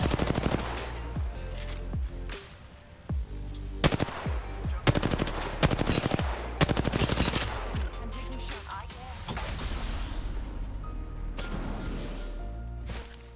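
Apex Legends gunfire, repeated bursts of rapid automatic shots separated by short pauses, loud and close, with a voice talking over parts of it.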